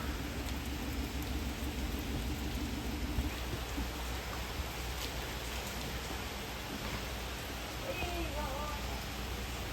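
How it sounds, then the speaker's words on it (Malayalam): Heavy monsoon rain outside a mosque falls in a steady, unbroken wash, with faint voices now and then beneath the downpour. "നല്ല മഴ."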